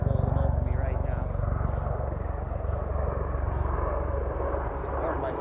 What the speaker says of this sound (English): The helicopter rolling over me right now.